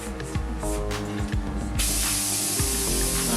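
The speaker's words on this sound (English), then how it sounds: "We're going to want to go ahead and deflate the tire now." Air rushes steadily out of a tubeless mountain bike tire's valve as it deflates, a continuous close hiss that swells louder partway through, heard alone.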